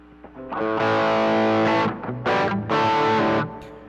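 An electric guitar, a Les Paul through a TL808 overdrive, EP booster and plate reverb, plays a few overdriven, distorted chords and bends, loud and close, with a short reverb tail between phrases.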